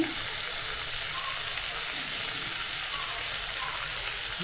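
Ginger and garlic paste sizzling in hot tempering oil with cumin while potato curry is cooked, a steady, even hiss that continues without a break.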